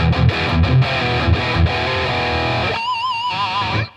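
A heavily distorted Charvel Pro-Mod So-Cal electric guitar plays loud, gritty chords with sustained notes, ending in a wavering, warbling effect before cutting off.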